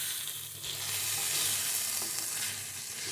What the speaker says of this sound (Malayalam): ഇതിന് പതുക്കെ ഒന്ന് ഇളക്കി കൊടുക്കുക